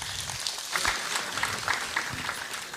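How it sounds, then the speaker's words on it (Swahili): A crowd claps at a political party meeting at DCP headquarters, a steady patter of applause with scattered louder claps, moderately distant and continuous throughout. "Ndio tujipigie makofi kwa ile kazi tulifanya."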